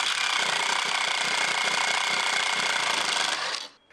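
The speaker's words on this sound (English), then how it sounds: "I'm using a step bit to widen out the mounting holes on one of the slides" A step drill bit widens mounting holes in a heavy-duty steel drawer slide, a loud continuous grinding whine that runs steadily and then cuts off abruptly near the end.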